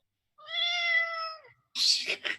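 A cat lets out one drawn-out, tonal meow, then a short harsher yowl or hiss follows after a brief pause, close and clear against silence.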